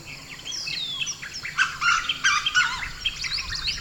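Many birds chirp and call in the Mudumalai tiger reserve forest, with overlapping tweets, whistles and squawks close by and a steady wild background, no voices.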